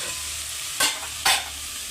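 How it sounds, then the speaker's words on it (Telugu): A pan of chicken biryani sizzles steadily, broken by two sharp, hissing bursts of sputtering as hot water hits the hot surface. "నీళ్ళు వేస్తున్నానండి నీళ్ళు వేడి నీళ్ళు"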